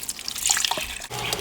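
Water splashes and drips into masa dough in a KitchenAid stand mixer, a brief close wet trickle and spatter lasting about a second and a half, without talk.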